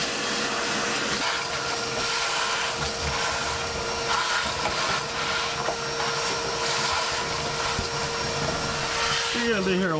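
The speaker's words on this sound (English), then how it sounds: "Well, Mook, let's get a vacuum in here and see what we got left." A vacuum cleaner runs continuously inside a 1964 Ford F250 dump truck cab, picking up floor crumbs, producing a steady roar with a constant whine and occasional rattling pickups, loud and close.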